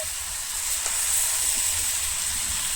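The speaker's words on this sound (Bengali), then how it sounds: "এবার আমি চিনি ঢেলে দিয়েছি এবার চিনির সঙ্গে চিনিটাও বলবে আমটাও সিদ্ধ হবে" Raw mango pickle simmering with sugar in a pan, giving a steady, close hiss and gentle sizzle that holds evenly throughout with no talking.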